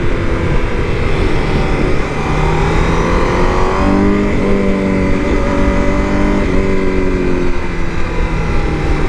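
A 2021 Honda CBR1000RR-R Fireblade ST with 215 hp screams at high revs under hard acceleration, loud and close, its pitch climbing and stepping through quick gear changes over continuous wind roar.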